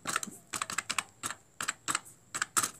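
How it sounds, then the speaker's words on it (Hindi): Text being typed into a website input field in the Chrome browser: quick clusters of crisp computer keyboard keystrokes in irregular bursts with short pauses, close and clear, no talking. "यहाँ पर क्लिक करना है और यहाँ पर मैं लिख देता हूँ अभिषेक"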